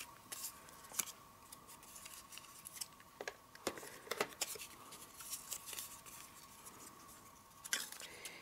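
Scissors snip through strips of card during papercraft, with a series of short, crisp cuts at an uneven pace. The sound is fairly quiet and close, with no talking.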